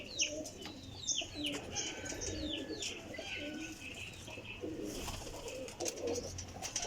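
Teddy golden flying pigeons coo softly and repeatedly nearby, with a few brighter chirps mixed in and faint background noise.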